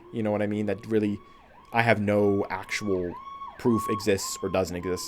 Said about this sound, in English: Sorry for the fucking sirens